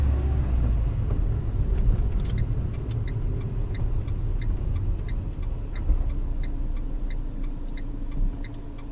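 Car turn signal ticking at a steady, even pace inside a moving car during a driving lesson, faint clicks over low road rumble.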